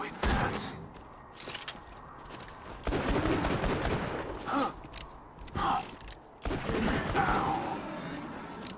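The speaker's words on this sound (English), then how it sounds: "gunshots, there's too many of them." Rapid bursts of gunfire in the video game Borderlands 2, dense fusillades broken by short pauses, loud and close with mechanical clanks and some game voices mixed in.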